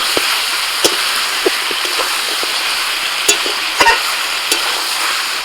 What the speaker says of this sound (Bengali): হলুদ গুঁড়ো লবণটা দিয়ে আবার এক মিনিট আমি এভাবে নাড়াচাড়া করে নেবো